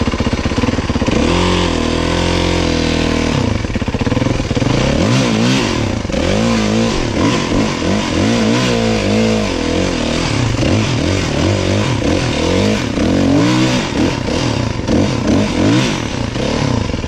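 A child's dirt bike revving hard on a muddy forest trail, its engine loud and close, rising and falling in pitch continuously throughout.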